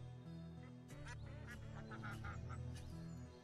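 Ducks quack in the Banished city-building game, several nasal calls in quick succession over soft background music, faint and close together.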